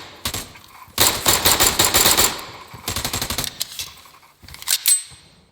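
Gunfire from a competitive esports shooter match with pistols in play: several loud, rapid bursts of automatic-sounding shots with short gaps between them, heard up close and without talk.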